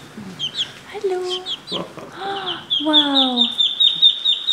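A chicken held in someone's hands on an ostrich farm in Bulgaria clucks and squawks in a run of close, shrill calls, while a person speaks a few words briefly between them.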